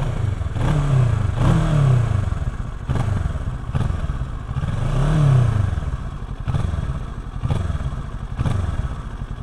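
A Kawasaki Versys 650 motorcycle with a small exhaust revs repeatedly, with deep swelling blips rising and falling over a rumbling idle, close and loud with a few clattering knocks between the revs.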